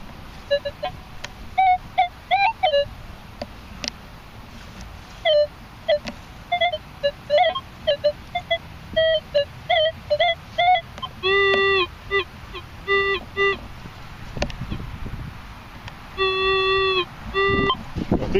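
Minelab E-Trac metal detector pinpointing a deep coin in a local park: repeated short electronic beeps and warbling tones that rise in bursts and sometimes swell into sustained pitched tones, over faint outdoor background noise.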